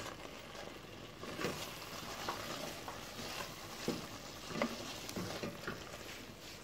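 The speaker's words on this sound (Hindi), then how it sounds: "अब इसमें डाल रही हूँ मैं मटर।" Boiled fresh peas tipped into a pan of frying masala for a matar paneer curry, giving a steady soft sizzle with scattered stirring scrapes and light clatter, close and alone without talk.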